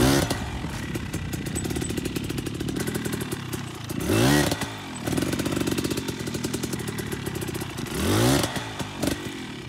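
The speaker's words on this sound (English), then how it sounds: "Now we give it a small blip of throttle just as that stored energy is being released." A dirt bike engine idles with a rough, rattling chug, broken by a few short throttle blips that briefly swell the revs, close and fairly loud.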